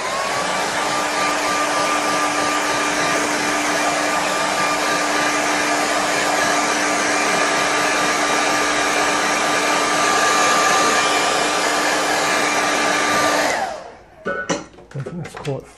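A hair dryer blows steadily and loudly on a watercolour painting for about thirteen seconds, a constant whooshing drone with a motor whine, then it switches off, leaving a few soft knocks and handling sounds.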